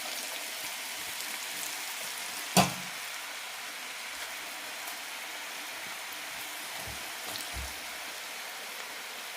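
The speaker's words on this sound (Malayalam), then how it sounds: "ഇനി ഇത് ഫ്രൈ ചെയ്തെടുക്കാം. എണ്ണ ചൂടായിട്ടുണ്ട്." Beetroot slices fry in hot oil with a soft, steady crackling hiss, fairly faint and close, broken by a single sharp clink partway through.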